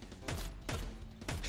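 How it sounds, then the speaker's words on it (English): Gunfire aimed at the ground in the video game Squirrel With a Gun: three loud, sharp shots in quick succession, evenly spaced about half a second apart. "Maybe I can shoot a few times at the ground."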